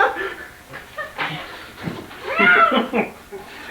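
An actor imitates a cat's meow during a stage rehearsal, a short drawn-out mewing voice amid light laughter and nearby chatter.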